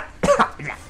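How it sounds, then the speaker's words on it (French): A man coughs after choking on his own saliva: two sharp, close coughs followed by a softer throat-clearing rasp, heard alone. "Me suis étouffé avec ma salive, c'est plutôt rigolo."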